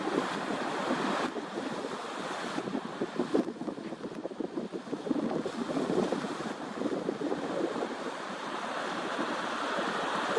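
Ocean waves wash onto a quiet, little-travelled beach, steady surf mixed with heavy wind buffeting the microphone, loud and constant with no voices.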